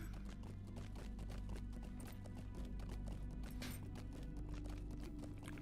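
Horse hooves clip-clop steadily while riding in Lord of the Rings Online (LOTRO) in Mordor, a continuous rhythmic trot that sits loud and close against a dense layer of game music and ambience.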